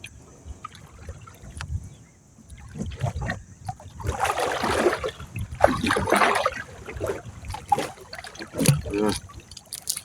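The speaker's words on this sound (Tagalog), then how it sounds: "Malakas-lakas ng agos" A strong river current flows and splashes around a boat, with surging bursts of rushing water rising and falling over a low rumble, and faint voices in the background.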